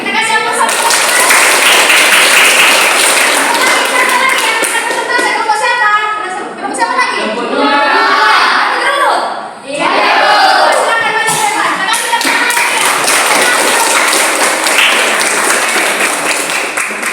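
Classroom audience applauding after a student group presentation, loud sustained clapping filling the room with a brief dip midway, mixed with some voices.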